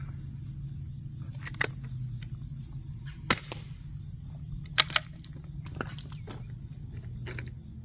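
Subsonic CCI Quiet .22LR rounds fired outdoors from a Savage Rascal youth rifle, heard as a few faint, sharp cracks over steady cricket chirping.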